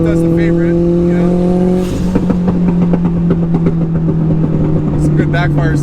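Mitsubishi Evo X street car at a race against a Lamborghini Aventador SV, its engine roaring loud and steady at close range with sharp pops and crackles layered over the drone, while people talk beneath it.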